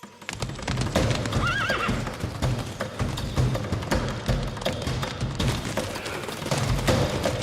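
Horses gallop in an animated Yakari scene with hunters, hooves clip-clopping in a dense, steady drumming while a horse whinnies, all loud and continuous.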